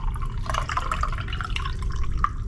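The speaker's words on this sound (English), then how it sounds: "A little bit of coffee left in there. Actually, I should pour it in here." Leftover coffee poured from a pot into a cup, a light trickle with small splashing drips over a few seconds, fairly close and alone.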